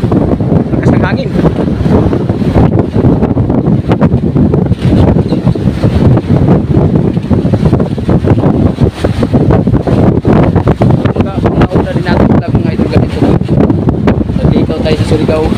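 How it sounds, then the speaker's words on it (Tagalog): Strong wind roars continuously across the microphone on a boat at sea near Panabik, with wave wash beneath and occasional voices under the buffeting. "Lakas ng hangin."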